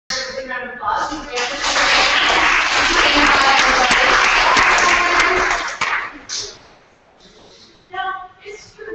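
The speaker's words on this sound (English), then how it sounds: "We're going to give this one a big round of applause." Applause from an audience at a ROM event, a dense, steady wash of clapping that swells in and holds for about five seconds before fading out, with brief voices and room sounds around it.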